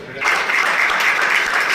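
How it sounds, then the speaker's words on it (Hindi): A room of people at a community planning meeting for a Ram Navami procession bursts into applause; a sudden, steady burst of clapping, loud and close, with faint voices underneath. "ये तालियां नहीं बजानी है"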